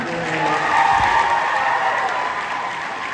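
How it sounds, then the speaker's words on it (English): A convention crowd at a Megacon fan Q&A panel breaks into applause, a broad, sustained roar of clapping that swells after the first second and then holds steady; a faint voice sounds briefly at the start. "You guys, round of applause for the white floor."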